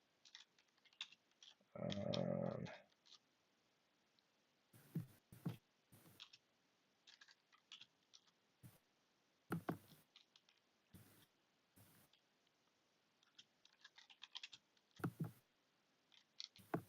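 Sparse bursts of keyboard clicks sound from a computer keyboard at a live bingo league draft, in quiet irregular clusters, with a brief louder muffled noise early on.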